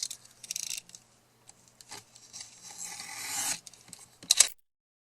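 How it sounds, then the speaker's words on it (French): Paper edges being cut for a handmade pizza box craft, giving a series of close dry rasping and snipping strokes in short bursts separated by brief pauses, with a sharper burst near the end. "je vais couper les bords de manière à rabattre comme je l'ai fait depuis le début"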